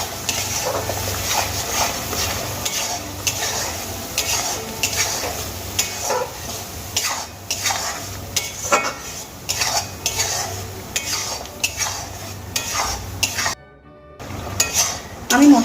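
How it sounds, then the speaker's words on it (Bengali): Ground spice paste fries in a pan for chicken curry masala, a soft sizzle under repeated scraping and stirring with a metal spoon, with clinks against the pan and a brief pause near the end. "এবার মশলাগুলোকে ভেজে নেব।"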